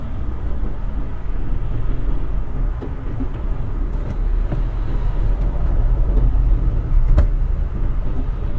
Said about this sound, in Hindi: ट्रैफिक भी देख सकते हैं। यहाँ पर ट्रैफिक भी बहुत ज्यादा है।